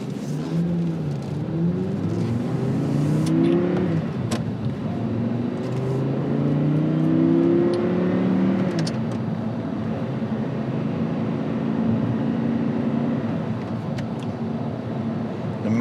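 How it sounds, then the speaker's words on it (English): An Audi R8 drives at low speed, its engine humming smoothly and fairly quietly from behind, with a couple of gentle rising revs before settling into a steady cruise. "motor just purrs away behind you. It's not a loud car."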